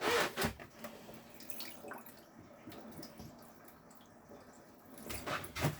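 Water trickles and drips from household taps as air is bled out of a freshly filled water system, a quiet, uneven flow with small spurts near the start and end.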